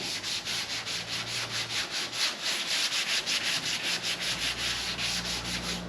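Hand sanding of a gray panel, steady rhythmic back-and-forth rasping strokes at a brisk, even pace, close and continuous with no talking.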